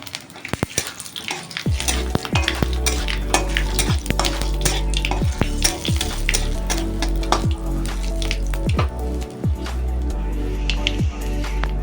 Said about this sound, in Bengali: এই 5 ফোড়ন আর শুকনো লঙ্কা সরষের তেলের মধ্যে দিয়ে দিলাম